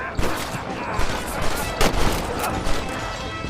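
Western-style gunfights in the video game Red Dead Redemption, with repeated gunshots cracking over a dense, noisy backdrop of battle sound and scattered louder bangs throughout.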